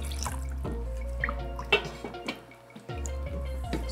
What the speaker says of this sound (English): then a bit of water to the sauce because we want the tamarind to kind of cook and release its flavor into the sauce